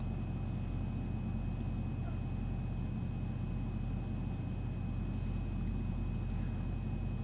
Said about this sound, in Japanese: 隣の赤いトラックエンジンかけた